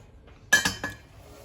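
Three quick metallic clinks of a spoon against a pot holding artichoke hearts, bright and close, in a short burst before quiet returns.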